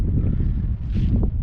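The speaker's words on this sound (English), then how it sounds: "sorry about the wind" Wind buffeting the microphone on a hilltop overlooking Karratha, a steady low roar and rumble throughout with gusty swells, close and loud, no speech.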